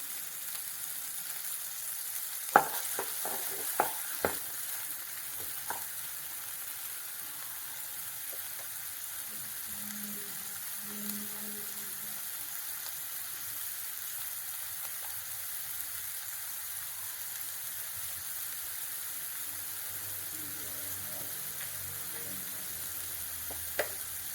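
Onions with ginger and a little salt sautéing in a pan for a potato fry, a steady soft sizzle throughout with a few light clicks of stirring early on and faint voices in the background.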